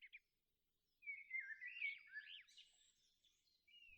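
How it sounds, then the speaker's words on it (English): Faint, distant birdsong of twittering, warbling phrases rises after a brief pause and continues for a few seconds in a quiet outdoor setting, no voices. "I'm going to ask the birds to keep chirping away for another 10 minutes or so"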